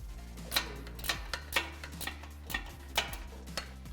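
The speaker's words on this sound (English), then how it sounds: "Then we're going to get it tightened up with a half-inch ratchet wrench." Half-inch ratchet wrench tightening a lock nut on a light mount of a Jeep JL Wrangler, heard as faint, evenly spaced clicks over a low steady hum.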